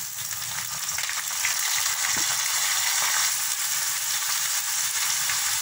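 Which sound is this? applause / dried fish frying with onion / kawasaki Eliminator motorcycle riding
dried fish frying with onion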